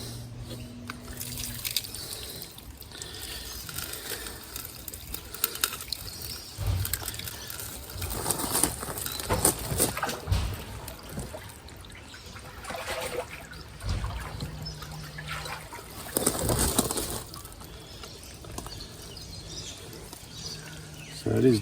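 Dirty water trickles and splashes out of an opened drain on an IBC wicking bed tank, an irregular outdoor stream that surges louder at moments, with birds faintly calling in the background.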